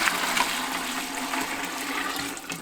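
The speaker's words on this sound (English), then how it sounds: "Let me just add a little bit more water." Water pours steadily into a bucket holding charcoal and a paint mixer, a continuous close gushing splash with no voices.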